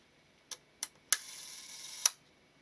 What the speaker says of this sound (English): So now let's see if I can cock the shutter